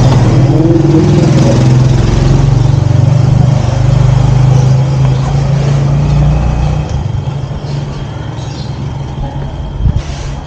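A Rusi Plus motorcycle engine runs with a loud, steady low drone close by, easing off somewhat toward the end.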